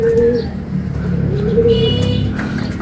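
Racing pigeons coo in soft, low, repeated calls close by, with a steady rumble of traffic and some chatter in the background.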